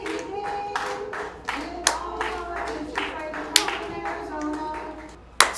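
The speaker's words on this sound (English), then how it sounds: "people trying to clap along to these ladies" Audience clapping along to music performed by a group of women: uneven rhythmic claps over a steady musical backing, with a few sharper louder claps standing out and some murmur of voices.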